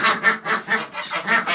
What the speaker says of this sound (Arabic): البط اللي هو ايه، الابيض البكيني بصوت عالي ده